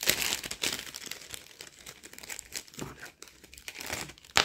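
Crinkly plastic packaging of a diamond painting kit being opened close up, a run of irregular crackling and rustling bursts with no talking.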